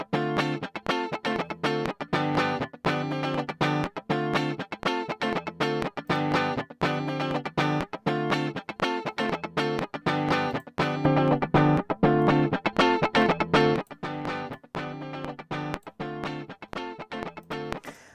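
Electric guitar through a distortion effect, loud rhythmic chugging chords in a steady repeated pattern that continues without talk.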